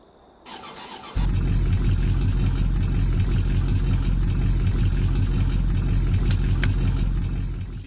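A big-block car engine in a video game cranks and starts, then settles into a loud, steady, rumbling idle that continues for several seconds.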